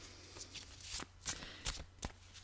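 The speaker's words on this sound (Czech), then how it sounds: "tady mi teď už takhle vystřelila kartička, tak já ji asi vytáhnu" Spiritual oracle cards are shuffled by hand in quick riffling bursts, four or five soft flicks spaced unevenly, close and quiet with no talking.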